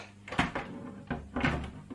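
The case of The C64, a modern Commodore 64 replica computer, is snapped shut with a few close plastic knocks and clicks in short bursts.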